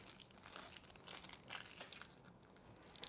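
Cellophane crinkles and crackles as a dry cured Toscano cigar is unwrapped, a close, soft, irregular rustling with no talk.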